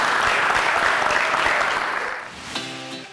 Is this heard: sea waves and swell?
no